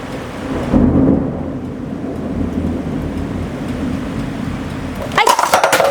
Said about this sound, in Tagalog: So, umuulan na sa labas.